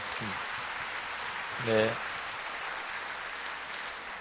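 A church congregation applauds their accompanist in steady, dense clapping that fills the whole stretch, with one brief spoken word rising over it midway.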